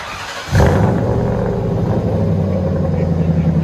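A Mercury Grand Marquis 4.6L V8 with true dual exhaust bursts into a loud, deep rumble close by and holds a steady throaty drone.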